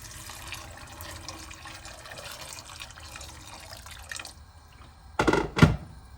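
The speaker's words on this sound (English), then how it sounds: "To that, I'll add in some water." Water is poured into a pan of matar (dried peas) ahead of boiling. It comes as two short, loud splashing bursts close to the microphone, after a stretch of quiet kitchen background.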